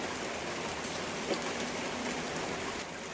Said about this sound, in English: I cannot hear you at all over the sound of this rain